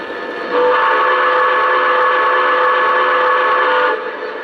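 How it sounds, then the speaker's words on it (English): A steady multi-tone whistle from a model train, a 20th Century Limited set, sounds for about three and a half seconds, loud and sustained, with faint rail rumble before and after. "it's not a quillable whistle, but it's still a cool whistle"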